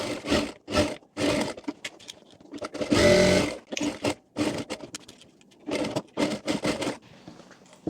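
Sewing machine stitching blouse fabric in a series of short, fast bursts with pauses in between, including one longer run, loud and close.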